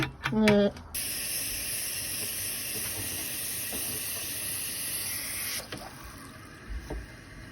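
Water poured from a small pail into a container, a steady continuous hissing rush of flowing water that runs for several seconds and then tapers off, with a brief voice at the start.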